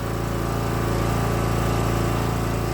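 A John Deere riding mower with a Kawasaki FC420V engine runs steadily nearby, giving a loud, even small-engine drone with fast regular firing pulses and no voices.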